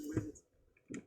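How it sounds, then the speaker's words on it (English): A Sony ICF-880L four-band radio receiver with a faulty power connector switches on and off. Two quiet, sharp clicks about a second apart sound close up in an otherwise still room. "I can hear it clicking on and off"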